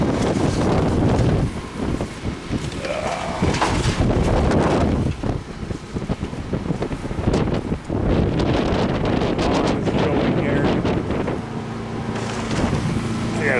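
Strong winter wind buffeting a boat, gusty roaring microphone wind with rattles and creaks of the hull and fittings, close and loud throughout.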